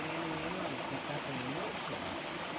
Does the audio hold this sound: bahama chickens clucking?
no